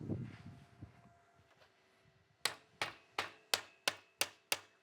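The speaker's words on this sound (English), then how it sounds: "So let me see what the hammering does here." Seven evenly spaced hammer strikes ring out on a plasma-cut metal piece, each a sharp loud clang with a brief metallic ring, following a quieter stretch of low shop noise.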